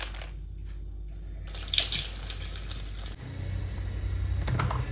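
Clams for marvai sukka being washed in water, with loud, continuous splashing and tap-like rushing that starts partway through and shifts to a lower, gurgling wash near the end.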